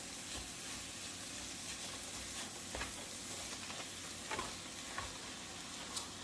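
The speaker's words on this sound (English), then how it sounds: "with the impossible meat, you kind of have to like let it cook until it is brown" Impossible plant-based burger meat sizzles steadily as it browns in a frying pan, a continuous close crackle with occasional stirring scrapes and no voices.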